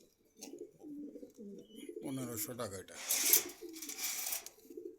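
Pigeons for sale at a bird market in Meradia, Khilgaon, Dhaka coo softly in repeated low bursts, close by, while someone talks over them for most of the stretch.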